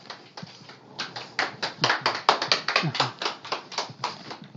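A small audience at a lecture forum claps to welcome a professor, a scattered round of separate, fairly close hand claps that builds and holds steady for several seconds with no talk.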